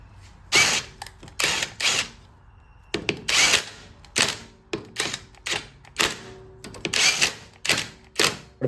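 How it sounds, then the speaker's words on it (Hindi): Rapid metallic clatter from tightening the rotor bolt on a TVS Star City Plus BS6 motorcycle during a clutch plate change, a series of loud repeated bursts like an impact or ratchet tool, close up with no talk. "रोटर को हम बोल्ट को करते हैं फटाफट से टाइट"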